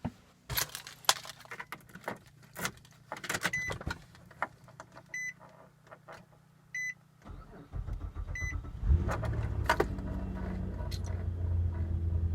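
A car starting just after its battery has been charged: keys jangle and a chime beeps, then the starter cranks, the engine hesitates and sputters briefly before catching and settling into a steady idle, close by, with faint voices in the background.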